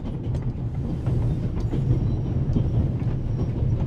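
A train rolls steadily along the rails in a video game, a continuous low rumble with faint rhythmic clatter, close and fairly loud with no talking.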